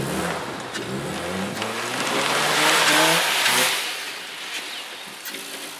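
A semi-off-road vehicle drives past, its engine rising in pitch as it accelerates and then fading, with steady broadband road and wind noise throughout; no speech.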